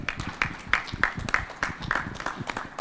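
A small audience at an awards event claps to welcome a singer on stage, with sparse, fairly faint claps in an uneven rhythm and no voices.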